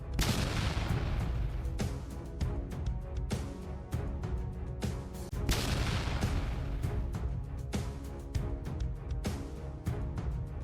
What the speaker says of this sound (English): Ukrainian artillery delivered long-range strikes, targeting enemy infantry and positions.